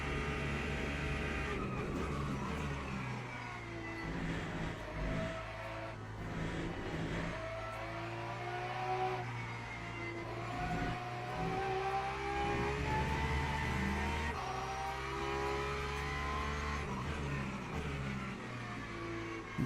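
Porsche GT3 race car in a racing video game, its engine droning steadily and loudly throughout with rising and falling pitch through gear changes and corners, no voices.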